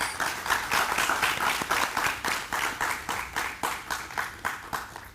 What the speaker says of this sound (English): Let's have a huge round of applause for Sudhakar